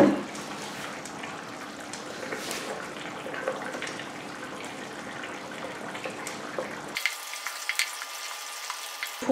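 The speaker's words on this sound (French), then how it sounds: "Il faut utiliser une spatule et tourner d'en bas jusqu'en haut et tourner à chaque fois" Pear purée with gelatin being folded into cream with a spatula, a soft continuous wet swishing and scraping with faint sizzle-like texture, steady throughout and close, with a sudden change in tone near the end.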